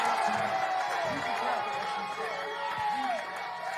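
A wrestling arena crowd at an OVW show reacts with restless, murmuring displeasure, a dense, fairly distant wash of voices with scattered shouts and whoops throughout.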